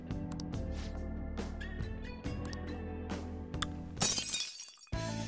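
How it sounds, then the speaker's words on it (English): Glass shatters in Persona 5 Royal, a sudden bright crash of breaking glass that bursts over steady game music and then drops away briefly before the music returns. "Broken glass, oh shit."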